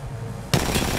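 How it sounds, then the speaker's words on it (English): A sudden burst of rapid gunfire from the video game Apex Legends breaks in halfway through after a quiet, low hum. It is close and loud, and the shots repeat quickly until the end. "I am missing all my shots!"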